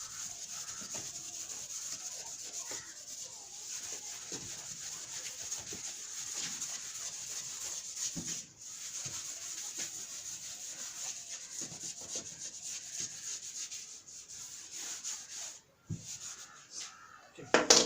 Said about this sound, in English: I'll rub this thing, I'll rub the question also.